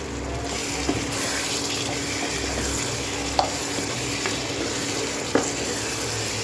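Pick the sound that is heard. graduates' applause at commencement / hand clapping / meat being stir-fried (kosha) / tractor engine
meat being stir-fried (kosha)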